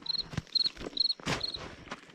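A high, cricket-like chirping phone ringtone pulses in short repeated bursts, faint against soft shuffling steps and rustling, outdoors in winter during maple harvest.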